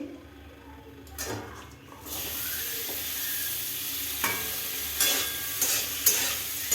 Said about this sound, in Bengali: আবারও সামান্য তেল দিয়ে আমি সবজিগুলো হালকা করে ভেজে নেব।